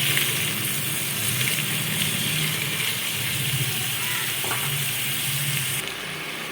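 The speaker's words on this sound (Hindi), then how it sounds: "इसी ऑयल में हम प्याज फ्राई करेंगे" Onions fry in reused oil over a medium-low flame for masala bhindi, a continuous close sizzling hiss with a steady low rumble underneath, shifting slightly in tone near the end.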